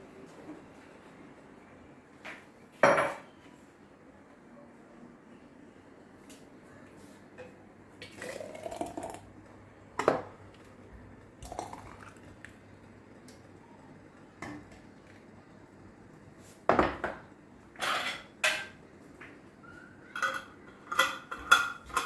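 Glass jar lids of homemade tomato preserves being handled and checked, giving scattered sharp metallic clicks and clinks with several clustered taps near the end, moderately close with no talking.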